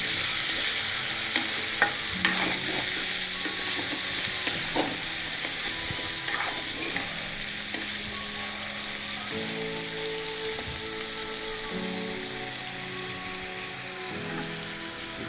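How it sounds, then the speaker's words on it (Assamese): Paneer fries in hot oil as it is stirred, giving a steady, even sizzle with scattered scraping taps of the utensil against the pan. The sound runs at moderate volume with no voices. "মই পনীৰখিনি অলপ ভাজি লওঁ"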